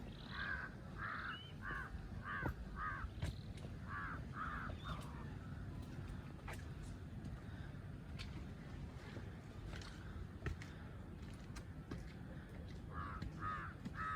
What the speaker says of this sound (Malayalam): ഒരു പരുന്തിനെ കാക്ക ശല്യം ചെയ്യുന്നതാണ്.